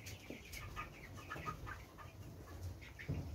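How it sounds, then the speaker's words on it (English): A flock of healthy poultry chickens in a farm house clucks softly and continuously, with overlapping calls and light rustling close by. "you need to stay quiet and listen to your birds, because birds can tell how they are feeling"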